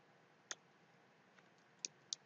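Isolated key taps on a laptop or PC keyboard in Windows 11, three sharp clicks spaced irregularly over a couple of seconds, close and fairly quiet, with no talk.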